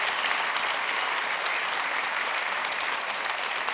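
Sustained studio audience applause from an Italian television show, dense and steady throughout with no voices over it.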